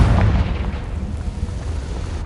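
A Confringo blasting spell explodes in Hogwarts Legacy on PlayStation 4 Pro: a loud, deep boom at the start that rolls into a sustained low rumble, with no voices.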